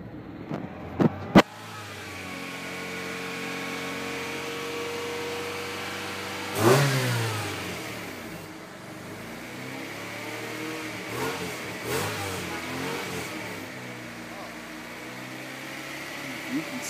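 A car engine treated with Seafoam turns over after a couple of sharp clicks, catches with a loud surge and then idles steadily nearby, with a few small revs and no one speaking.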